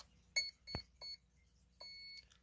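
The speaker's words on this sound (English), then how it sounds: "So the first three beeps were saying it's 3S, and the last one's just a confirmation." A brushless Hobbywing Seaking ESC in a Proboat React 17 RC boat starts up: a few short, faint electronic beeps confirming a 3S battery, followed by a slightly longer confirmation tone.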